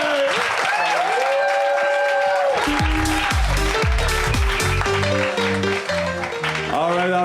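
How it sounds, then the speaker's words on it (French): A comedy show audience applauds a performer, a broad wash of clapping blending with loud tonal music that swells and shifts in stepped notes partway through. "On peut applaudir Jel Monon"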